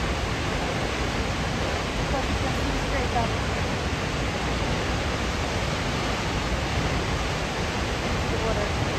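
The tallest freefall waterfall in Rogaland, Norway pours down in a powerful, steady roaring rush that stays loud and constant, with a voice speaking briefly over it.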